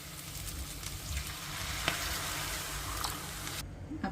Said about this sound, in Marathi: आता आपण यामध्ये थोडं पाणी ॲड करणार